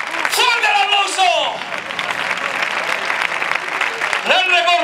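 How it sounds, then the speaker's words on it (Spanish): Crowd applause at a bull-dodging recortes contest, a sustained wash of clapping, with an excited shouting voice over it at the start and again near the end. "¡Fuerte el aplauso!"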